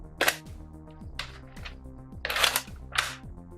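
A Bug Attack toy crossbow blaster firing foam darts, a series of about five close, sharp plastic snaps and clacks spaced unevenly over a background of mechanical ticking, with no talking.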